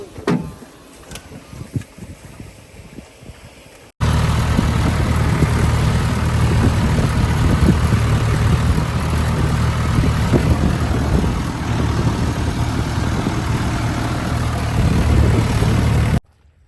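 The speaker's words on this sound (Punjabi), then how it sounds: "ਮਿਸ਼ਰਣ ਘੋਲ ਲਿਆ ਤੇ ਕਰੀਏ ਪੰਪ ਚਾਲੂ" An engine-driven crop spray pump starts up in a field and runs, a loud, steady low rumble with a constant droning hum after a brief quieter stretch, continuing unbroken and close by.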